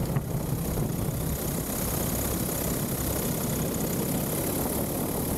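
Propeller aircraft engine at idle power while descending, a steady, even drone with low rumble and constant hiss throughout, no voices.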